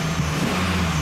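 A Chevrolet Silverado pickup with a misfire and fuel injector circuit fault runs at a steady idle, its engine hum close and even across the short moment.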